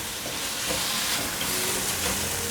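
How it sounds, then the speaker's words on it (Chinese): Mashed tofu stir-fried in a pan gives a steady, close hiss and sizzle with faint scraping beneath, continuous and fairly loud for the whole short stretch with no voices. "豆腐泥炒一炒，可以让它的水分变干点"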